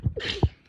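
A single short human sneeze, a quick breathy intake followed by a sharp burst, close and alone.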